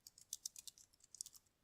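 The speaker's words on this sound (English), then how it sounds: "I can go ahead and start typing" Quick, light keystrokes on a computer keyboard tap out a short burst of typing, faint and close in a quiet room.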